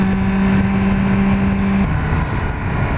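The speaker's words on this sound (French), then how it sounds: "Au niveau son du pot d'échappement, bon, ça reste, malgré que ce soit un Akrapovic, ça reste très feutré" 2017 BMW S1000R motorcycle with an Akrapovic exhaust, a steady engine drone heard from the rider's position that drops in pitch partway through, with road and wind noise behind it.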